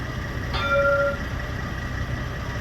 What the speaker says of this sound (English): Parramatta's Light Rail leaving the depot